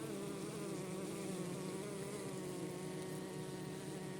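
Honeybees buzzing on the hive, a dense, continuous hum of many bees close by, steady and unbroken throughout.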